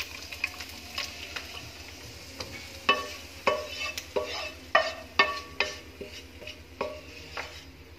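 Stirring and clinking of utensils against a pan of fried almonds, cardamom and fennel mixture over a low, steady sizzle and hum, with regular sharp taps close by and no talking.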